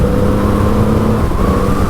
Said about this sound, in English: There's a PT Cruiser coming.